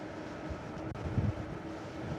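Steady wind noise rushes past an electric scooter rider heading into a headwind on flat ground, a continuous broadband roar buffeting the microphone with a brief dip partway through and no talking.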